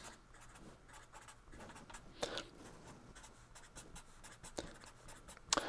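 A pen scratches across a surface as the primes up to 100 are written out: faint, close strokes and taps in an irregular rhythm, with no voice.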